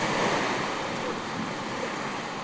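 Steady roar of sea surf breaking on the Christmas Island shore, continuous and fairly loud with a wash of wind noise and no voices.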